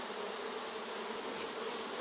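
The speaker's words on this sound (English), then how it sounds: "Beautiful bees." Honey bees swarm around a new nuc hive, their dense, steady buzzing humming close and continuously with a droning tone and no talk over it.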